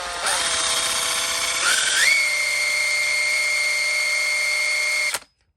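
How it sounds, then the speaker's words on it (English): A power drill spins a car alternator on a test setup, giving a high, steady whine that climbs in pitch as it speeds up, holds for a few seconds, then cuts off abruptly. "we'll spin up the alternator and we should get a voltage increase"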